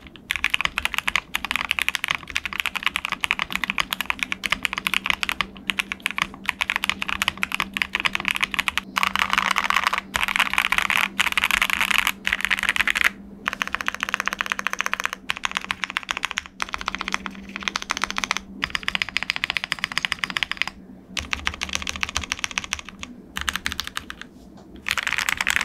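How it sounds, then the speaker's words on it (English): Typing on a Tiger 80 Lite mechanical keyboard with the PE foam removed: fast, continuous clacky keystrokes, close and clear, with a few short pauses and no voices. "Now here's a typing test without the PE foam"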